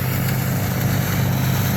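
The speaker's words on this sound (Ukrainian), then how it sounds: "Комбайн Бранденбург, німецький." A German Brandenburg combine harvester threshing wheat in the field gives a steady, loud mechanical engine roar and rumble that continues unbroken throughout.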